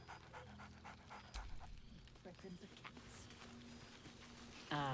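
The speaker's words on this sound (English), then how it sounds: "Scratch barks merrily in something like agreement." Scratch, a dog in the Baldur's Gate 3 game, pants rhythmically and close, with a short bark or two breaking through and a louder burst at the very end, under faint spoken narration.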